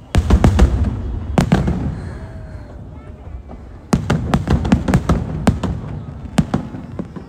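Fireworks burst outdoors in a crowded Chinese New Year night, with a rapid cluster of loud cracks, a lull of crackle, then another volley of sharp bangs, with people's voices around.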